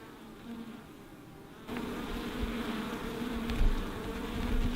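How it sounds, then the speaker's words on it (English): Honey bees fly around a hive entrance in orange groves, a steady close buzzing hum that swells a little louder partway through, with individual bees droning past the microphone. "Stare at the entrance and you'll notice the bees coming back with loads of pollen on their legs."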